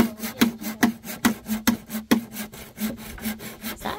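A hand saw cuts through wood in rapid, regular back-and-forth strokes, each a rasping burst with a tonal ring, close and fairly loud with no talk.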